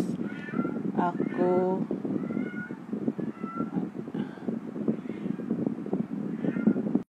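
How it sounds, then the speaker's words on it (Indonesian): Several short meows from a house cat, close and clear, breaking over a continuous speaking voice during an online meeting at home. "dihiraukan suara kucing saya ya"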